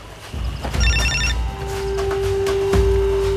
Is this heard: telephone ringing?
yes